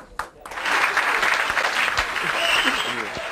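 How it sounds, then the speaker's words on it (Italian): Studio audience on an Italian TV show claps steadily and fairly loudly after an abrupt start, a dense sustained wash of applause that holds to the end. "Applauso, applauso."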